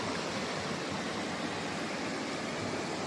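A river flows in a steady, dense wash of rushing water, an even hiss with no breaks, moderately loud and continuous throughout.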